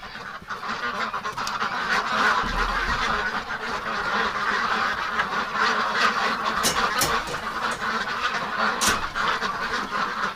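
A flock of ducks in winter quacks and honks continuously at close range, dense overlapping calls running the whole time over a steady wind-like background.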